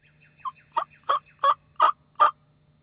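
A wild turkey gobbles during a turkey hunt: six rough, rattling calls in quick succession, growing louder and nearer, over faint soft chirps and a low hum.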